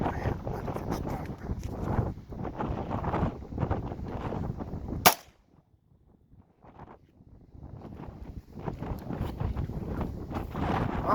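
A handgun fires a single sharp crack at a cast metal plate outdoors, loud and abrupt, surrounded by heavy gusting wind noise that briefly drops away after the shot.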